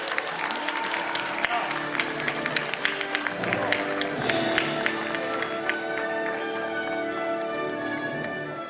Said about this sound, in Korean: 모두 박수로 환호해 주시기 바랍니다